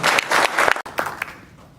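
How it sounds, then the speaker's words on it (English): Brief burst of audience clapping for campaign pacesetters at a United Way kickoff in a cafeteria, loud and close, breaking off abruptly partway through before a few scattered claps trail away. "Let's give all 4 of our pacesetters a round of applause."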